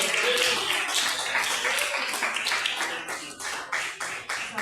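A church congregation claps along during a worship service, rhythmic rounds of hand claps that grow more distinct and punchy toward the end, close and lively with voices mixed in.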